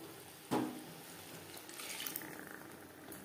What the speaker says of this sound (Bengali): পেঁয়াজ বেশ ভালো করে কষিয়ে নেওয়ার পর দিয়ে দেব জল।